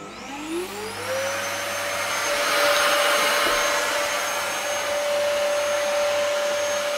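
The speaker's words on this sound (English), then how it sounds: "Right, let's switch the hoover on." A Dyson vacuum cleaner switches on inside a caravan, its motor winding up over about a second into a steady, loud whine that holds on without a break.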